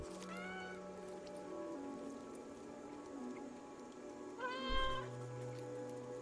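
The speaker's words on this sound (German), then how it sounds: "Mit Dings kann ich miauen?" A cat meows several times in the video game Stray: a rising meow near the start and a louder, longer one near the end, over steady rainfall and low game ambience, with no talking.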